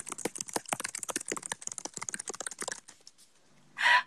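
Rapid typing on a Bluetooth computer keyboard: a steady run of quick, crisp key clicks lasting a few seconds, close and clear, trailing off before a brief louder burst of sound at the end.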